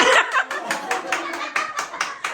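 A small group of people clapping at a New Year 2026 gathering of Filipino overseas workers, with several rhythmic bursts of claps close by and some light laughter and chatter around them.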